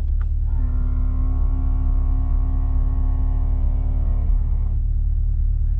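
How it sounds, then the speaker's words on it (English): Front-end lift on a C8 Corvette 3LT raising the nose: a steady electric motor or pump hum with a sustained tonal whine, continuous for several seconds and cutting off near the end, heard close over a low rumble with no talking. "you can actually hear the noise it makes whenever the front end lift goes up"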